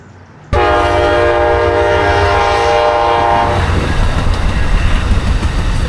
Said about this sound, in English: Amtrak train running through on the tracks.